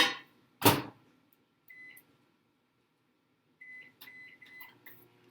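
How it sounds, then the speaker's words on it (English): A microwave oven heating ingredients in a microwave-safe bowl: a door clunk followed by several short electronic beeps from the control panel, close and clear in a quiet room. "we're going to stick it in the microwave to melt it"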